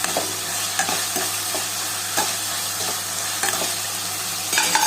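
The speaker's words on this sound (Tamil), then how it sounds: "தக்காளி வெங்காயமும் இப்போ கொஞ்சம் அப்படியே கரண்டியிலே மசிச்சு விட்டுக்கலாம்." A ladle mashes tomato and onion frying in a pan for brinjal and drumstick thokku, with a loud, constant sizzle and regular scraping knocks of the spoon against the pan.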